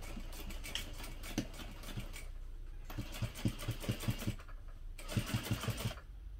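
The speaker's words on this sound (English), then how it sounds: "I'm just going to sew a few stitches and then back stitch" A sewing machine stitches and back stitches at the top of a fabric pocket on a hip pouch, running in three short bursts of quick, rhythmic needle thumps separated by brief pauses.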